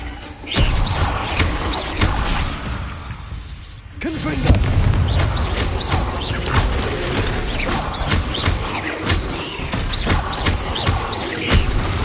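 Confringo fire spell blasts crack and boom repeatedly in Hogwarts Legacy combat, loud bursts over a constant rumble of battle noise, with a brief lull before the explosions resume.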